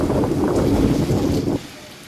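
A heavy rain shower, part of a thunderstorm over a district in Gujarat, pours down as a dense, loud hiss for about a second and a half before abruptly cutting off.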